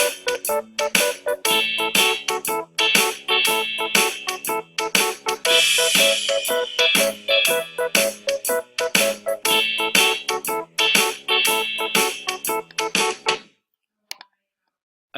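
A layered twelve-bar blues arrangement of keyboard chords and a bass line, built for a year 9 school project, plays steadily for about thirteen seconds before stopping abruptly, with no talking.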